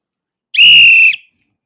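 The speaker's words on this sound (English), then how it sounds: "I'm going to blow the whistle twice." A single sharp, shrill whistle blast, close and loud, lasting about half a second before cutting off into silence.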